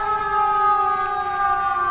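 Ambulance siren heard outdoors at a park at night, a steady wailing tone with layered harmonics, moderately loud and somewhat distant, continuous across the clip with no talk.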